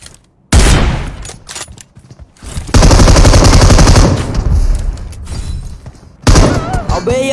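Loud bursts of automatic gunfire in the mobile battle game PUBG Mobile, rapid rattling volleys with short pauses between them, with faint voice in the background.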